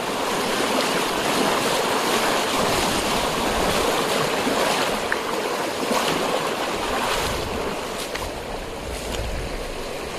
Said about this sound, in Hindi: फोर्स तेज है पानी का काफ़ी